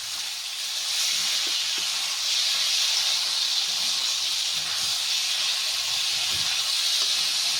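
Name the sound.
tomato sauce sizzling in hot pan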